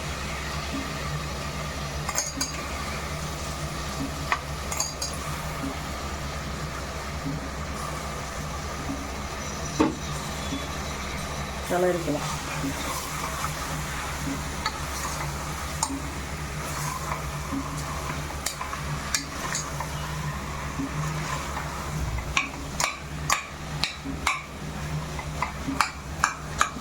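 A steady sizzle of chicken curry ingredients sautéing in a pan fills the background, with occasional clinks and scraping of a utensil and a brief spoken remark.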